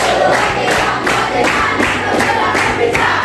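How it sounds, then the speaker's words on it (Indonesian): A class of students doing a rhythmic group clap with shouted chanting in unison, loud and close, the claps falling in quick regular bursts. "Tepuk semangat"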